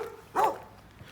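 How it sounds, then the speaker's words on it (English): A dog outdoors along a roadside gives one short bark, a single clear mid-distance yelp with faint background noise before and after. "Doggy woggy."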